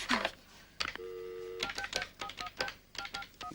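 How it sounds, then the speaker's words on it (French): Touch-tone keypad beeps sound as a telephone is dialed: a steady tone, then a quick run of short, distinct key presses mixed with clicks from handling the handset, close and clear. "Mais maintenant, à qui tu téléphones?"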